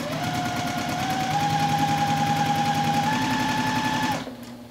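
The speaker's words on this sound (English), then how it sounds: "continue over to the sewing machine with a 1/4 inch seam" A sewing machine runs steadily with a rapid, even stitching rhythm, sewing a quarter-inch quilting seam, for about four seconds, then stops abruptly.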